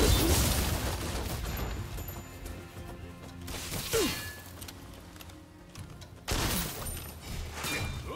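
Heavy bursts of machine gun fire in the action game Rise of the Ronin, three loud clattering volleys separated by quieter stretches full of crashes and mechanical clatter.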